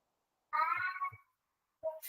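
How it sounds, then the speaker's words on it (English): A pet cat meows during a home yoga session: one drawn-out, wavering meow with a short chirp at its end, then a second shorter meow after a pause, close and clear in a quiet room. "My cat is chiming in as well."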